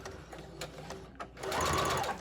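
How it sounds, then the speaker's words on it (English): A sewing machine stitches a fabric face mask in short, steady bursts, growing louder and denser toward the end as the needle runs continuously. "my mask is sewn, and taking it off of the sewing machine"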